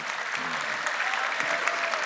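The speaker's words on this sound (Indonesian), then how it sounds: "Tepuk tangan untuk arak Bali." Steady crowd applause at a Bali governor's working visit to Buleleng, a continuous wash of many hands at moderate loudness, with faint voices mixed in.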